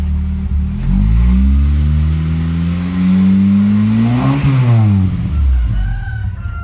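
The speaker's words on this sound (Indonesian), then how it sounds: "Kita cek dari cerobong asap knalpot. Coba gas." Loud, close engine of a used car revving during an exhaust check, its pitch climbing steadily, then dropping back to a rumbling idle.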